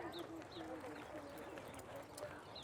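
Racehorses walk past on the Churchill Downs backstretch, their hooves clip-clopping in an even rhythm under continuous nearby talk and outdoor ambience.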